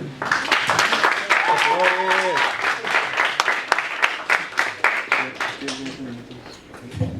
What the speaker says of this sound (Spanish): Recibámoslo con un aplauso también.